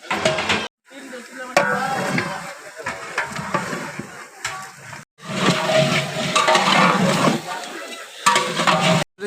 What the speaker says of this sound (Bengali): এখন আমরা মাংসটা মশলার সাথে ভালো করে নেড়ে ছেড়ে মিক্সড করে দেবো।